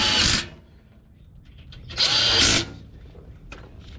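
Two loud bursts of a power drill spinning on the prop shaft bolts of a Toyota 4Runner, close by, with a short pause between them and a few faint clicks and clanks afterward.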